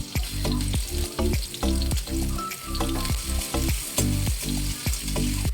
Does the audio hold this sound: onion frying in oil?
yes